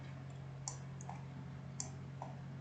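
Quiet, crisp mouse clicks come in two quick pairs while working in AutoCAD, each pair a press and release, heard close against a faint steady hum.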